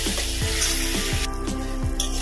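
Chili powder, turmeric and ground cumin masala sizzle in a pan while being stirred for ghugni. The frying is steady and close, with a rhythmic scrape or knock of the spoon repeating about every 0.4 seconds.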